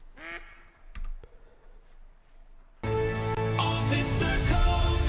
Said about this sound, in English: A gold mallard duck taken out of the air with a bow.